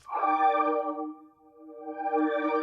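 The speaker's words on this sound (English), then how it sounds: "I'm going to add this consonant pad from my new Champions Analog Lab kit" A sustained analog-style synth pad from Analog Lab holds a soft, smooth chord, fading briefly before a second chord swells in, clean and close with no effects and no voices.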